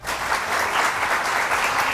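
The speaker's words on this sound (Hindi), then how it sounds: "तो बहुत सारी तालियां" A studio audience on a morning talk show bursts into loud, dense applause, many hands clapping close and steadily with slight swells for the full length.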